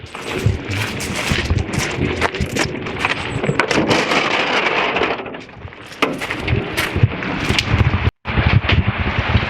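Rain pours outdoors near a greenhouse in December, a loud, steady hiss with scattered crackling spatters that runs almost continuously, dipping briefly around the middle and cutting out for a moment near the end.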